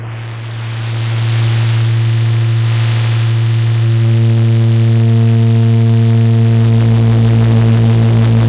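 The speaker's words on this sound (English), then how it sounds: "Now I have added black digital noise to the mix on channel B1 instead of the ramp VCO" Black digital noise run through an Erica Synths Fusion Tube Mixer, a loud, steady buzzing drone with a strong hum and a hiss that rises in level early and then holds constant.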